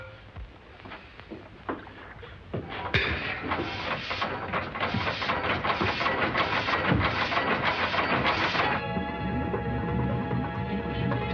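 A boat engine runs with a steady hissing, chugging mechanical roar. It starts quiet, swells suddenly to a loud, busy rattle, then settles into a tonal hum near the end, with no talk.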